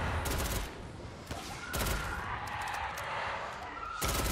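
Explosions and gunfire in the Call of Duty Zombies video game, with loud broadband blasts at the start, around the middle and at the end over a continuous game din, and people talking faintly underneath.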